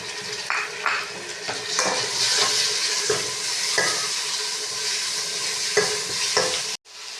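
Tomatoes and green chillies frying in a pan as they are stirred, with a steady sizzle and repeated scraping strokes of the spoon throughout, close and fairly loud, ending in a brief cut.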